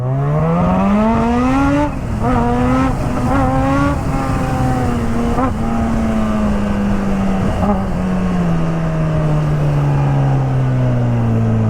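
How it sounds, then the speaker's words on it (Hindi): A supercharged Kawasaki H2 motorcycle accelerates hard at full power, its loud close engine roar climbing in pitch, briefly dipping at a shift, then holding a high sustained scream that slowly falls away. "फुल पावर का अलग ही मज़ा है सुपर चार्ज में, और जो विस्लिंग साउंड आती है"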